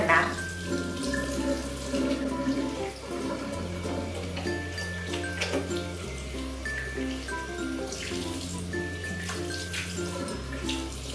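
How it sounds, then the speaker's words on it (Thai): Water runs steadily from a bathroom tap into a sink while someone washes their face, a continuous splashing hiss that sits under background music for the whole stretch. "เดี๋ยวเรามาล้างหน้ากันนะ"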